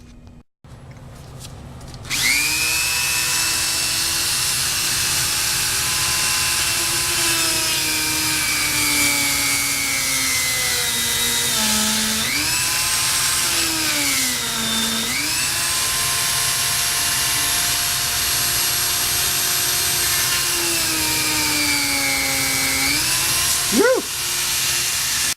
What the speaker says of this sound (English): I'm going to have to get in here with the Dremel tool and reopen those holes up since they have some fiberglass in there